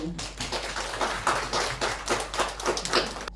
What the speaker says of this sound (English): Let us give a round of applause to Dr. Rose Dewi.